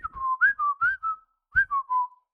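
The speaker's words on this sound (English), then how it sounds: "Can you guys hear the whistling?" A person whistles a short tune near a gate, clear sliding notes in two phrases separated by a brief pause, close and alone.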